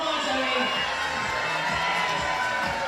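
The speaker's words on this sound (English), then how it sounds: "So good to see the crowd getting involved here today." Large, busy crowd at bouldering championship finals cheering and shouting in a dense, sustained roar, with children's voices and whoops mixed into the steady wall of noise.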